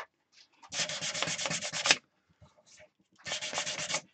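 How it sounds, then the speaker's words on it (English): Two bursts of close, steady rasping as sandpaper rubs against spinning wood, the first lasting over a second, the second shorter after a pause. "Don't need that on when I'm sanding."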